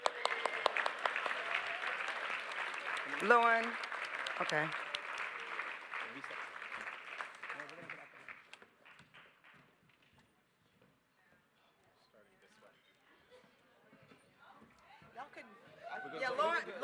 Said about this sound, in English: y'all clap while they come on stage